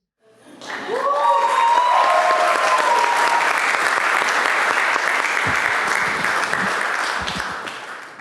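Wedding guests at Lakeview by Carmen's in Hamilton break into loud sustained applause, a dense wash of clapping that swells quickly, holds steady and tapers at the end.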